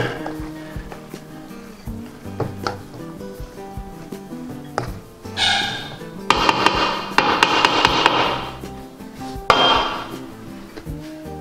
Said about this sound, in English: now you want to mix the rapini and pasta together real well